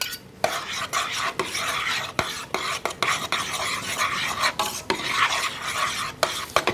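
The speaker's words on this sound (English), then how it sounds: "we are going to stir a half a cup of pesto into here." Risotto being stirred with pesto in a pot: close, rhythmic scraping and wet churning strokes with soft sizzle beneath, repeated sharp spoon knocks against the pot, no talk.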